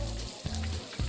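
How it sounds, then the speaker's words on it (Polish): Meat sizzles on a stove in the Overcooked video game, a brief, steady frying hiss with soft crackles and a low hum underneath. "Dobra, smaż te mięso."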